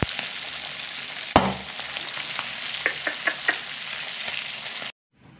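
Pork liempo steak sizzles steadily in a hot frying pan, a continuous bright crackle with a sharp clunk early on and a few small pops, cutting off near the end.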